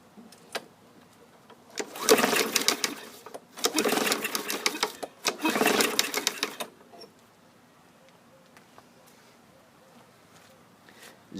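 A 2015 Yard Machines 550EX mower engine running on stale gas is cranked three times, each a loud, close, whirring burst lasting one to two seconds. The engine never catches, and quiet stretches follow each pull.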